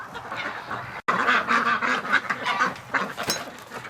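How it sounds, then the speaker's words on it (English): Several female ducks quack close by outdoors in wet winter weather, a dense chattering run of raspy calls overlapping with little pause after a brief dropout. "Come on, ducks, in you go."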